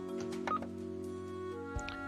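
A string of quick telephone keypad tones beeps in Death and Taxes, several short dialing blips over a steady low electronic hum, quiet and close.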